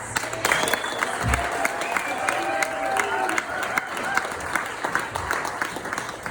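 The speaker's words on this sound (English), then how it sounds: "can we please give a round of applause to my mom for planning all of this?" Guests at a retirement party giving a round of applause, a steady crowd clapping with cheers and voices mixed in, moderately close and sustained throughout.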